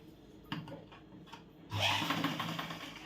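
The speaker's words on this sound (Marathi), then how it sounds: "मध्यातून व्यवस्थित टीप घेत आपण पूर्ण बाही त्या बाजूला पण आणि ह्या बाजूला पण जॉईन करून घ्यायची" A sewing machine runs a seam joining the sleeve of a tucks blouse. Quiet taps and short starts come first, then the motor settles into a steady, close whirring rhythm for the last second and more, with no talk.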